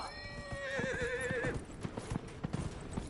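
A horse in Dragon Age: Inquisition lets out a whinny as it is mounted, then its hooves clip-clop in a steady walking rhythm, clear and close with no talk.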